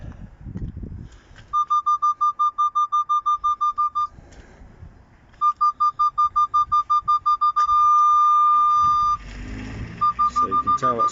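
A Nissan Qashqai J11 parking sensor speaker gives out rapid, evenly spaced high electronic beeps in two bursts. A steady continuous tone follows, then the quick beeping starts again. The beeps are loud and close, with faint handling noise underneath.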